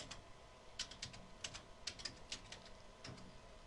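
Keystrokes on a computer keyboard as a date is typed into a form field, a quick run of sharp clicks in small bursts, close and fairly quiet with no talking.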